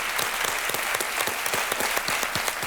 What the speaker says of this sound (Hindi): तालियों के साथ एक बार फिर अभिनंदन नेहा